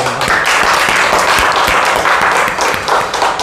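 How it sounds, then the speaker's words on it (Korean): Congregation applauding during a Korean Wednesday church service, a dense, steady wash of many hands clapping at close range with no talk. "박수로 하나님께"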